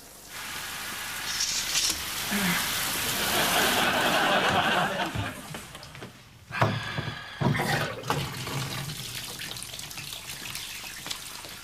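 A bath filling from the tap, a steady rushing pour of water that runs loud and continuous, then a few knocks and splashes and a softer ongoing flow near the end.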